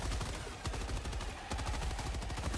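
Rapid bursts of gunfire from the shooter game Helldivers 2, dense automatic fire with sharp repeated cracks over a continuous low rumble, steady and loud throughout.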